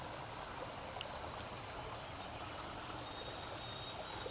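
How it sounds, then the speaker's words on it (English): A stream flowing through Central Park in New York City gives a steady, even rushing of water, moderately faint and uninterrupted, with no voices. "look at the water"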